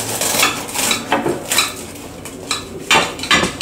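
A knife and fork cut a chicken sandwich in half on a plate, with close scraping strokes and clinks of metal against china, coming in short repeated bursts.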